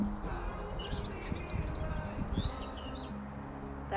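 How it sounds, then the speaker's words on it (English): Yellowhammer song rings out in woodland during a wild camp: short zingy, metallic high notes ending in a longer sustained buzzy note, heard moderately near over a rumbling background. "That kind of zingy, metallic sounding bird. That's the yellowhammer."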